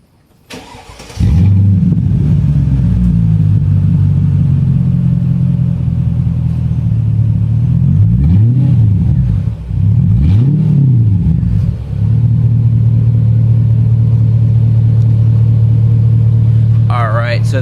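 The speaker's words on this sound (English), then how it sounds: "Alright, so that's the cold start." A Mercedes S500 with a modified exhaust muffler cold starts close by, catching with a loud burst and then settling into a steady, deep idle with a couple of small rises in pitch.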